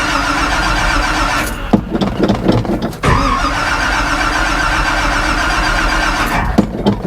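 An old truck named Clyde, left sitting for a while, cranks and catches, the starter churning briefly before the engine fires and settles into a loud, steady running rumble close by.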